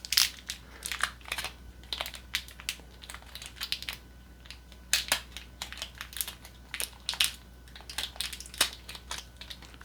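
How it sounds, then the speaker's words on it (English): Crinkling and crunching of plastic and cardboard packaging as a HyperX ChargePlay Base Qi wireless charger is unwrapped, in a quick run of close, irregular rustles and crackles over about ten seconds with no talking. "So I will unwrap this."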